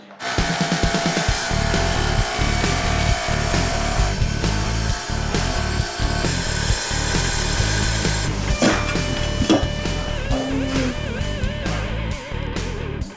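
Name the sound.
saw blade cutting polished porcelain tile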